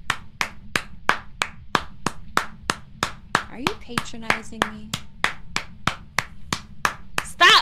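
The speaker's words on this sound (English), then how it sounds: "Stop clapping." Steady, rapid hand clapping repeats throughout at an even rhythm, loud and close, while someone talks briefly over it partway through.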